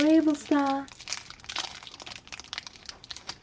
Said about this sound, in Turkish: Şimdi 6. poşetleri açıyoruz.